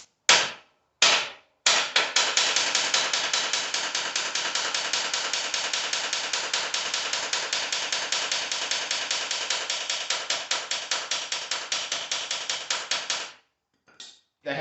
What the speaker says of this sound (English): Just a lot of rapid fire hammering, short little pounds, taps.